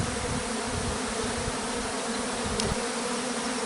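A dense swarm of honeybees drones around the hive, a continuous loud buzzing from many insects, close and unbroken, with no voices.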